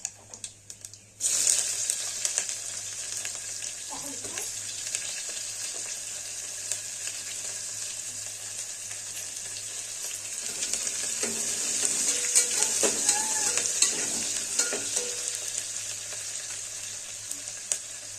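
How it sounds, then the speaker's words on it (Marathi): Onion and tomato frying in a pan with cumin and curry leaves, a steady close sizzle that starts abruptly and builds slightly louder over time, with occasional stirring scrapes and no talk. "आता ह्यात कांदा आणि टोमॅटो भाजून घेऊया."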